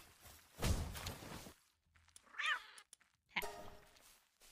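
A cat in a video game meows, one long loud meow followed by a shorter chirpy call and a final meow with soft steps between, close and alone.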